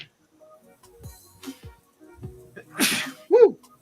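A single sharp human sneeze bursts out near the end, loud and close, after scattered quiet movement and faint knocks in an otherwise still room.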